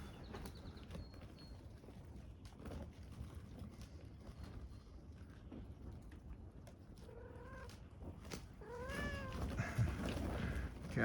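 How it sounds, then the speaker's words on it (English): Cats meow a few times outdoors on a sunny morning, the calls rising toward the end over steady low outdoor rumble and background noise, fairly close but not loud. "Cats are enjoying the sun."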